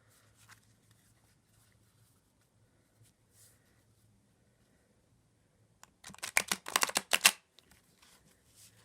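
A gold-edged tarot deck is riffle-shuffled in one quick burst of dense crisp card flutter near the end, after mostly quiet handling.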